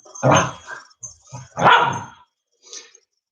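A dog barks nearby, two loud barks with a short yip between them and a fainter bark trailing after, then silence.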